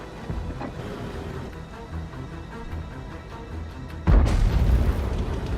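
Tank cannon fire and shell hits in the World of Tanks video game: a low rumbling battle backdrop, then one loud, heavy boom near the end that keeps ringing and roaring afterward.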